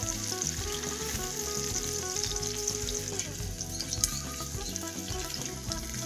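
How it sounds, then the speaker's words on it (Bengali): Onions fry in a pan with a lively, steady sizzle. Light clinks of stirring are heard close up throughout, with no voices. "তো দেখো পেঁয়াজটা কিন্তু বেশ ভালো করে ভাজা হয়ে গেছে।"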